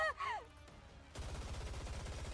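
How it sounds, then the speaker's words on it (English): Rapid burst of gunfire in a game scene, a fast rhythmic stream of shots starting abruptly after a brief vocal sound, steady and moderately loud. "Snow White unleashes a barrage of bullets"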